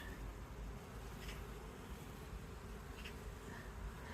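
A honeybee colony hums and buzzes steadily up close, a dense, continuous drone with individual bees passing nearby, while the colony is moved from one hive into another.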